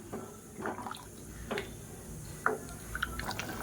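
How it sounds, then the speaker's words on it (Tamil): Water in a pot for rice begins to boil, giving scattered soft bubbling pops and drips at close range over a low hiss. "இப்போ தண்ணி நல்லா கொதிக்க ஆரம்பிச்சிருச்சு."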